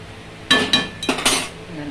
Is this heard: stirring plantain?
yes